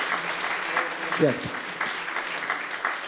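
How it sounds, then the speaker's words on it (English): Audience applause at a Vermont National Guard community meeting, a steady wash of clapping throughout with a brief spoken word near the middle. "This is a part where you need to applaud."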